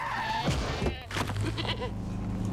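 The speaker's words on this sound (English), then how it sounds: "Is that a goat?" A goat bleats loudly and up close in a 2002 comedy movie commercial, a wavering nasal cry rising over a busy background soundtrack.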